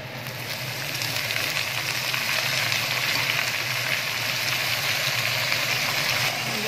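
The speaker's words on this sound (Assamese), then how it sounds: "ধুনীয়াকৈ এইখিনি অকণ ভাজি ল'ম" Spinach fries with browned onions in a pan for a spinach and fish curry, giving a close, even, continuous sizzle that barely changes from start to finish.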